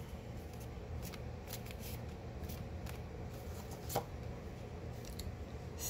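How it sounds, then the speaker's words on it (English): Tarot cards being shuffled by hand, quiet and close, with a steady run of soft papery riffles and a few sharper snaps, with no talking. "I'm going to shuffle one more time."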